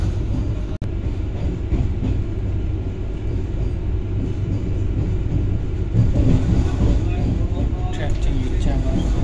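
A Vande Bharat express train runs fast across points from a passing line back onto the main line, a loud continuous rumble and rattle of wheels on rails with occasional clacks, voices faint beneath.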